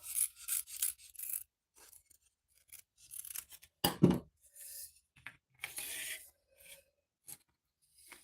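Scissors snip and rasp through material for a wedding bouquet prototype in a run of short, close cuts and scraping strokes, separated by brief pauses, with one heavier thump partway through.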